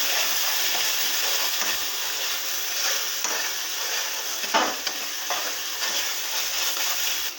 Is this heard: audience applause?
no